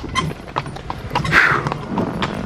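Horse hooves clip-clopping in quick irregular steps, close by, with a brief whinny-like burst midway and some background movement.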